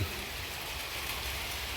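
Steady, even hiss of rain falling outdoors in a rural Thai garden village, a dense wash of fine patter with no voices, continuous and moderately loud throughout.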